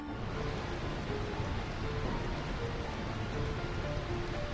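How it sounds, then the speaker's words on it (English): Rain falls steadily over the rainy city of Burmecia in Final Fantasy IX, a dense, even hiss with no pauses, alone and at constant loudness, with faint tonal music underneath. "I find this rain quite pleasant. It feels as though the raindrops are blessing our victory."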